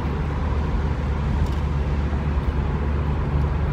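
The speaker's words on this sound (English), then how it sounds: "Speed driving." A car driven fast, its steady loud road and engine rumble filling the cabin with a constant low roar, no voices.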